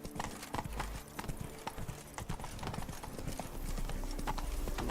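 Horse galloping in The Witcher 3 video game, a quick steady run of hoofbeats, fairly quiet and continuous, with a faint voice at times.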